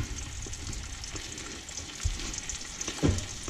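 Steady sizzling and crackling of trout frying in butter in a pan just past medium heat, a continuous hiss with small pops and a faint clink near the end.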